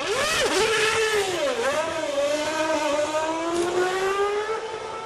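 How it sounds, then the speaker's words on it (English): Formula One car from the Grand Prix 4 racing game accelerating out of the pit box, its engine screaming up through several rising gear shifts, loud and close with no talk. "he releases the clutch and the car screams out of the box, leaving the pit crew in a cloud of smoke"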